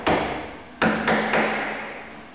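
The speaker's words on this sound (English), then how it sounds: "Using a scratch awl, I'm using this as a center punch." Scratch awl used as a center punch, struck to dimple the screw hole of a door hinge: four sharp metallic taps, close and fairly loud, each ringing briefly, with pauses between strikes.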